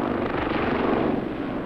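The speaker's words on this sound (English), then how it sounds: "A high-capacity helicopter with a completely new airframe powered by 2 Rolls-Royce GEM turboshaft engines" A WG-30 helicopter powered by two Rolls-Royce Gem turboshaft engines, at the Farnborough air show, gives a loud, steady, close turbine and rotor drone that fills the whole stretch without a break, with no talk over it.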